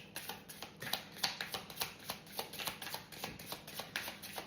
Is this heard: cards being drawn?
yes